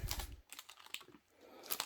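Keys on a compact mechanical gaming keyboard are pressed in a short, irregular burst of close, quiet clicks and clacks with no speech.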